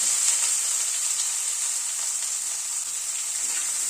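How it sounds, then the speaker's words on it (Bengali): Chopped onions frying in a pan over a medium flame, a steady close, bright sizzle that holds evenly throughout with no voices. "গ্যাসের ফ্লেমটাকে মিডিয়ামে রেখে পেঁয়াজটাকে হালকা করে ভেজে নিচ্ছি"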